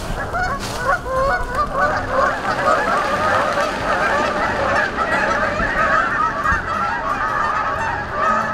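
Geese honking at a pond, a loud continuous chorus of many overlapping honks from a flock close by, with no talking.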